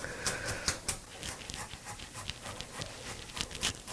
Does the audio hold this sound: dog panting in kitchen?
yes